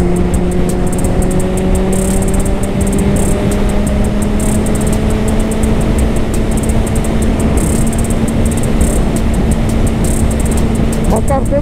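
A 2008 Kawasaki Z750 motorcycle being ridden: a loud, continuous engine drone with a slowly rising pitch as it accelerates, mixed with constant wind rush, throughout.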